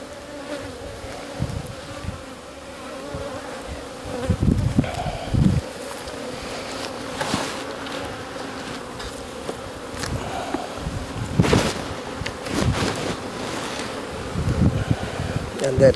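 Honeybees from a colony of Lutz breeder queens buzz steadily around an open brood frame, a close, continuous insect drone with louder swells as bees pass near, and a person speaks briefly over it.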